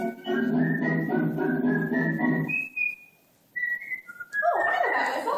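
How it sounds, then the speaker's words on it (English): Someone whistles a melodic tune, sustained pitched notes running in a steady phrase that pauses briefly and then resumes with a different line, clear and close with no talk over it. "Oh, I know that whistle."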